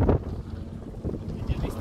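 A boat moving along the sea off the Devbag and Tarkarli coast makes a steady, rumbling wash with heavy wind buffeting the microphone, a continuous low churn with no clear breaks.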